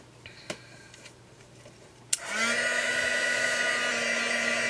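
A handheld dryer, likely a heat tool, switches on after a couple of soft clicks and blows with a steady, loud whirring hum while drying an embossed craft base.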